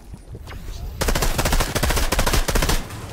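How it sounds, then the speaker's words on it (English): Rapid blaster fire in a Star Wars video game, a dense burst of repeated shots after a brief quieter lead-in, loud and close with no talk over it. "How is my lightsaber not blocking these shots?"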